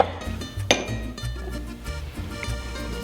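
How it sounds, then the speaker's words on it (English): Ice cubes drop into a glass while a margarita is made, giving a sharp clink near the start and a few lighter knocks over steady background music. "And then we're gonna add some ice to our glass here."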